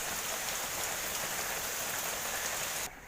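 Heavy rain pours steadily onto surfaces outside a house under dark, overcast skies, a dense continuous hiss that stays loud and unbroken before dropping off sharply at the very end.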